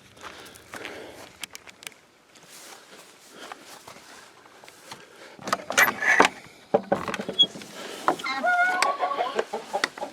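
Hens cluck and squawk close by, with a rooster's call and shuffling footsteps, growing busier and louder toward the end.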